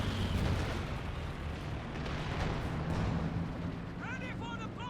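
Rolling artillery shells from a creeping barrage in Company of Heroes 2 keep booming and bursting in a steady, thick roar, and a voice briefly comes through near the end.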